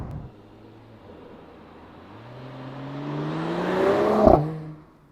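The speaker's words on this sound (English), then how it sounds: "this convertible here at almost 200 kilometers or 125 miles an hour is more silent than most all other cars on the market" Mercedes-AMG E53 convertible with the top closed cruising near 200 km/h, a low steady drone of engine, tyre and wind noise that swells louder and brighter, peaks with a brief thump, then fades away.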